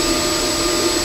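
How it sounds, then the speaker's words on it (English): A FLSUN S1 3D printer's turbo cooling fan on top of the machine blows hard through a duct, making a loud, steady, close-up whirring roar with a sustained tonal hum and no talking. "this is impossible to not mention how loud this printer is."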